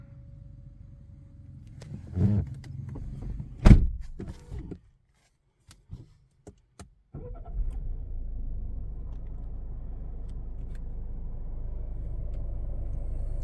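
A Peugeot 508 GT-Line with the 2.0 BlueHDi diesel cranks and fires after several short clicks and thumps, then settles into a steady low idle rumble.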